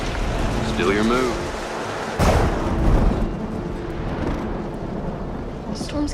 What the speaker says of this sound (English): The storm's getting worse.